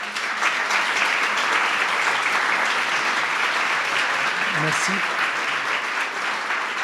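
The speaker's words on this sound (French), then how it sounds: "je pense qu'on peut les applaudir pour cela" An audience applauds the visiting Kogi delegation in Grenoble with sustained, dense clapping throughout, and a brief spoken word is heard partway through.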